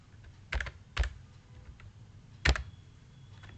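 Key presses on a computer keyboard while a letter is typed in a word processor, several separate clicks including a firmer Enter press, sounding close and sparse against a quiet room.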